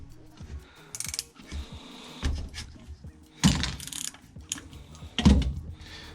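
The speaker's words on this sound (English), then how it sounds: "8mm ratchet, 8mm spanner." An 8mm ratchet undoes a bolt on a Honda 900RR motorcycle carburettor, giving close, repeated clicking ratchet strokes in bursts with short metallic knocks between them.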